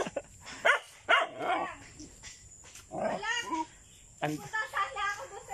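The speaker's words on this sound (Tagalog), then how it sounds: "tinatahulan kami" Dogs bark and yelp in short bursts at moderate distance, with pauses between, near a house in a hillside farm area, while faint background noise continues.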